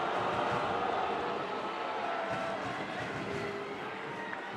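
A large stadium crowd hums steadily at a women's football final between the Philippines and Thailand, a broad, distant roar of murmuring spectators with no clear peaks.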